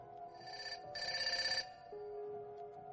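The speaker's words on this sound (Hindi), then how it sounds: "कि उसका फ़ोन बज उठा।" A telephone ringing in a horror story set at a haunted morgue, one clear electronic ring burst rising in loudness, then a steady tone, heard alone without talk.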